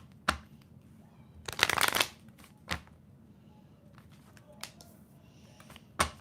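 Tarot cards are gathered and shuffled near at hand, with a quick riffling burst in the middle and several sharp taps and clacks of the deck around it.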